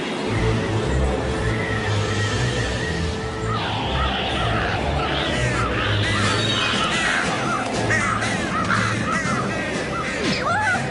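A flock of crows in a cartoon episode, with repeated harsh caws layered thickly over loud, dense background music and effects, growing busier after the first few seconds.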